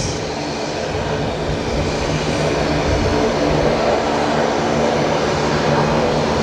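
A Link Airways plane taxis in to Bay 50 at Brisbane Airport, its engines giving a loud, steady drone and hum that holds unbroken from start to finish, with no talk over it.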